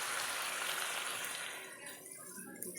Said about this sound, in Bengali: নারকেলের দুধটা ঢেলে দেবো